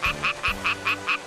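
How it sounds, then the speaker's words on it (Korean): A male frog croaks with its vocal sac inflated, a series of seven evenly spaced, loud nasal calls repeating in a steady rhythm with no other sounds. "남자 개구리가 이 울음주머니를 부풀리면서 개굴개굴 울거든"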